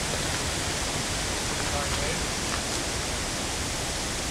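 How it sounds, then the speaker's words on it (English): Wind buffets a microphone outdoors beside a paver pathway under construction: a steady, loud, broadband rush that stays constant throughout with no clear gusts or pauses. "Sorry about the wind, everybody"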